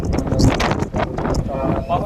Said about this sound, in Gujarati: પવન પણ આવે છે